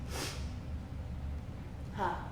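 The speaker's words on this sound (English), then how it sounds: "Sniffing." Two quick sniffs, one at the start and one near the end, with quiet low background noise between them.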